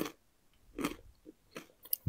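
A large Brazil nut crunched between the teeth close to the mic: a few sharp, separate bites and crunches with quiet gaps between them, crisp and intimate in a silent room.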